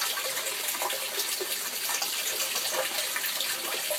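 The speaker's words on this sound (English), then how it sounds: "Overflow drops down inside. Fills up the big tank." Aquaponics overflow water pouring down into a big tank, a steady close rushing splash that holds constant without pause, with no voices over it.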